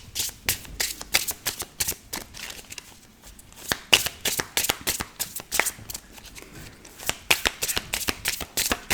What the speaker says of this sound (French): On va mélanger ces cartes pour voir un petit peu les énergies de cette journée.